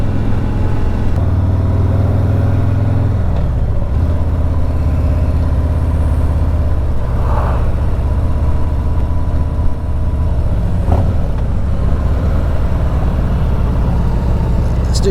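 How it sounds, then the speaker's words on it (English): A car engine fitted with a Stage II performance kit drones steadily while driving, its pitch rising and falling as the revs climb through the gears, loud and continuous throughout. "stage 2 starts to pull away as the revs get a little bit higher"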